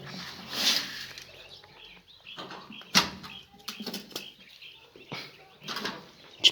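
Quails in a coop flap their wings in sudden brief flurries close by, mixed with faint chirps, rustling and scattered bumps in the pen.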